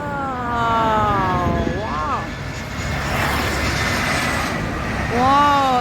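A jet airliner landing at Soekarno-Hatta airport roars steadily as it comes in, a broad loud engine rumble heard from nearby, while people talk excitedly over it throughout.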